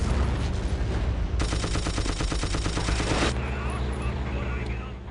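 Battlefield 1942 desert combat at Alamein with a bazooka and rapid gunfire, loud dense bursts of automatic fire over a constant rumbling engine drone, peaking in a sustained rattling volley mid-clip before easing back.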